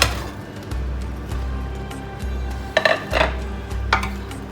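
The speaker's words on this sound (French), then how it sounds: "Ensuite, nous ajoutons les 4 pommes de terre avec les carottes." Potatoes and carrots going into a tajine pot, a few close clatters and thumps of pieces landing and shifting against the pot over a steady low hum, no talking.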